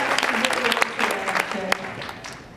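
Convention crowd applause at a cosplay event, a busy patter of many hands with scattered cheers and voices mixed in, fairly loud and continuous.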